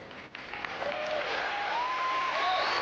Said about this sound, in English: For now, David takes his applause.